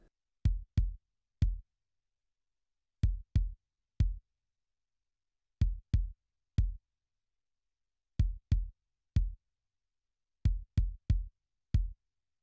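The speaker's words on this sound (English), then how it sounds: "So now I will show you how this kick drum sounds in the drum rhythm." Kick drum from a Korg Triton synthesizer, BD and SD kit 1, thumps out a sparse rhythmic pattern of short, deep, punchy hits in clusters of two or three, separated by silence.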